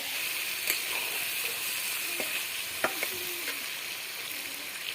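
Meat and potatoes sizzling in hot spiced oil in a pan, a steady frying hiss with a few sharp clinks and scrapes of stirring, close and moderately quiet.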